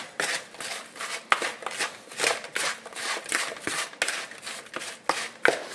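Apple pie filling seasoned with ground cinnamon being stirred with a steady scraping, shuffling rhythm of repeated strokes, fairly close and unaccompanied by talk.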